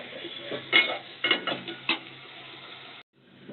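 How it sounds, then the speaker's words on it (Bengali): Spiced potatoes and okra being stirred in a frying pan, with a few clinks of a utensil against the metal over a soft cooking sizzle and no talking. "আলু ঢেঁড়সে দিলাম, কষিয়ে নিয়ে ঢাকনা দিয়ে দেবো।"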